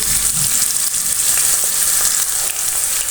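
Onions frying in a pan for Punjabi kadhi give a loud, dense, continuous sizzle with light crackling, steady throughout with no voices.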